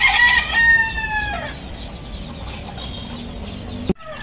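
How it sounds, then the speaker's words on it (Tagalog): Chickens and chicks in a homemade chicken cage in the rural Philippines, with a loud close crowing or clucking call at the start, then quieter clucks and peeps over a noisy background, ending in a sharp knock. "ayan yung 6 na sisiw natin"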